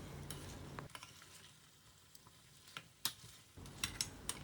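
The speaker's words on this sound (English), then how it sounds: "it's very important to fry the mutton well for at least 20 minutes before adding water" Mutton pieces frying in oil in a pan for a Mughlai mutton curry, with soft sizzling under scattered stirring scrapes and clinks, a few sharper metallic taps near the end.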